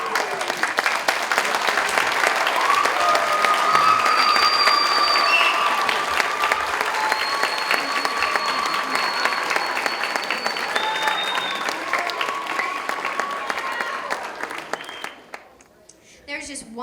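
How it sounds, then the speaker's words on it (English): A high school fashion show audience gives a long, steady round of applause, dense clapping with scattered cheers and whoops that fades out near the end. "please give one more round of applause to everyone who helped make our show a success"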